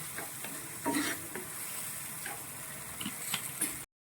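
Vinegar bubbles and sizzles steadily in a pan with a soft, continuous hiss and occasional light pops and clinks, and no talking.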